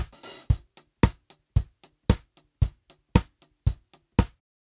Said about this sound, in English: let's first listen to the drum groove on which we're going to apply that